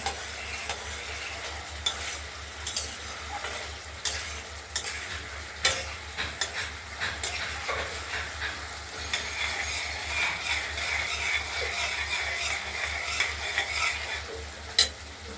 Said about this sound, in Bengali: আমরা মশলাটাকে সুন্দর ভালো করে না কষিয়ে কষালে নেব।